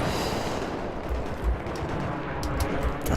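Gunfire rattles through a Battlefield 3 battle, a dense, continuous wash of shots and distant blasts with sharper cracks scattered through it.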